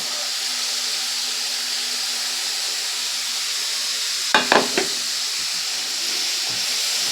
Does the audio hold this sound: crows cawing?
no